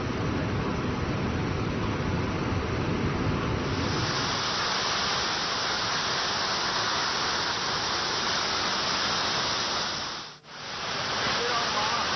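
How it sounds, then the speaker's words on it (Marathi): Kempty waterfall in Mussoorie, Uttarakhand, swollen after heavy rain, roars as a dense, continuous rush of water, loud and steady throughout, with a brief dip near the end. "मुसळधार पावसामुळे केमटी धबधबा ओसंडून वाहू लागलाय"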